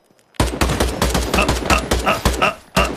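Rapid bursts of automatic gunfire from a competitive online shooter video game, loud and close, with dense repeated shots over about two and a half seconds and a brief pause near the end.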